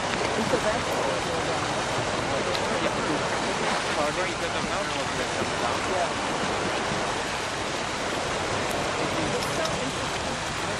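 Arctic sea surf washes steadily onto Kraemerpynten beach on Kvitøya island, a dense, continuous roar of waves with faint voices now and then underneath.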